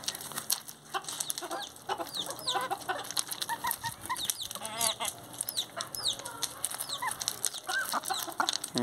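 Backyard chickens clucking and chattering busily while pecking at peppermint leaves, with bursts of wing flapping; a dense, near flock of overlapping calls without speech.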